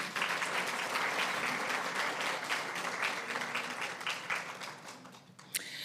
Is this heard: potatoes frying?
no